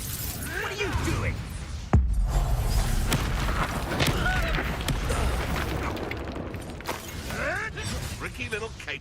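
Incendio fire spells in Hogwarts Legacy burst out amid a chaotic battle, with a sharp crack near the start followed by continuous crackling, whooshing and impact noise under intermittent voices.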